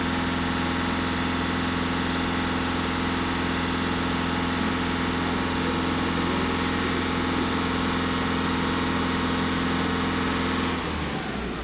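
A Seat Altea 1.6 TDI diesel engine idles with a steady, loud, even drone and a constant low hum, close up and unchanging until it shifts slightly at the very end, with no talking.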